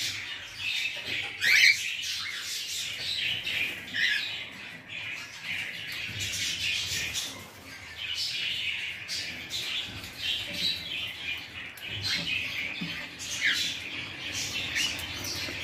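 Hungry, nervous cockatiels, including a pastel-face hen, keep up a steady chatter of bright chirps and squawks, with a louder call standing out near the start and scattered cries throughout.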